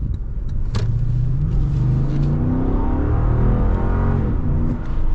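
The engine of a used Lexus GX 460 revs and accelerates, a loud, close mid-range drone climbing smoothly in pitch over several seconds with a sharp click near the start.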